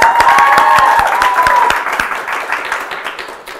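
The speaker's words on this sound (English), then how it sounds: "You're allowed to clap." Applause from a live audience in a hotel venue, dense and lively at first and then gradually thinning and fading, with a sustained tone briefly audible underneath early on.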